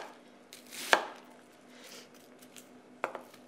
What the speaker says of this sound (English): And then you just chop the other way